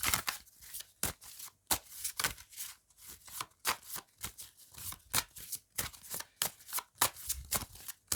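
Tarot cards riffled and shuffled by hand at close range, a rapid series of crisp flapping bursts and snaps in an uneven rhythm, loud and without speech.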